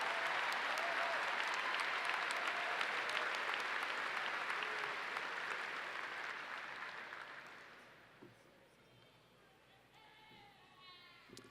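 Large commencement audience applauds graduates at a spring ceremony, a loud sustained wash of clapping that fades over the last few seconds to scattered claps and quiet.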